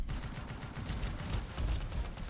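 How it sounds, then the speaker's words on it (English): A Javelin fires a barrage of rockets in the video game Anthem, producing a loud, continuous, rumbling volley of overlapping blasts throughout. "Big barrage of rockets."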